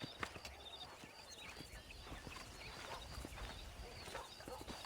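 Horse hooves clip-clopping in Red Dead Redemption, a western video game, while horses are broken in on a ranch; soft, faint, irregular hoof thuds over a low steady background hiss.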